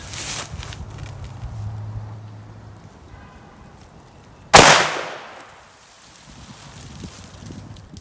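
A single loud sharp report from a .454 Casull revolver firing hollow point reloads at an outdoor target range, followed by a decaying echo, with quiet rustling before and after.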